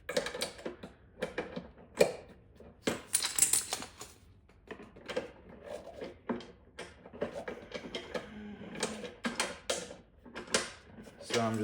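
Wrench loosening a bolt on the lower handle of a Toro LawnBoy 21-inch mower, irregular ratcheting clicks and metallic creaks in short bursts, with someone talking in between.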